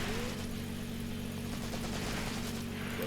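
Machine guns fire from the backs of jeeps in the wartime tactics game Graviteam Tactics: Mius Front, a steady rattling fusillade over a constant droning engine hum, with no voices.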